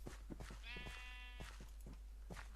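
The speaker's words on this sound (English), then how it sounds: "Or is that just another sheep?" Sheep bleating in the video game Minecraft: one long, wavering bleat stands out clearly over a steady background hum, with a few shorter, fainter bleats before and after it.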